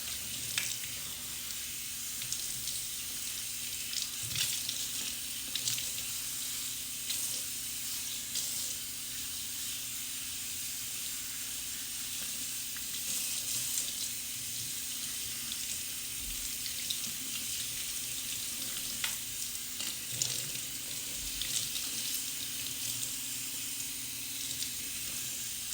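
Water runs steadily from a bathroom sink tap while a wig is washed, a continuous hissing spray with occasional splashes and no talking.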